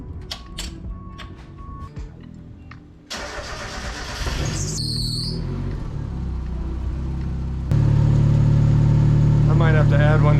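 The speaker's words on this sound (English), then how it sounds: "I just started it up, cold start, so it's going to be rich until it kind of clears out the warm-up enrichment" A turbocharged Mazda Miata drift car idles just after a cold start, running rich. The engine catches partway through, then settles into a steady, loud, close-up idle with a rough low drone.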